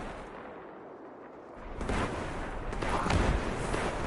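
A grenade blast in Destiny 2 during a Grandmaster Nightfall strike, a low rumble swelling into a broad, roaring burst that lingers and rises again, loud and close with no voices.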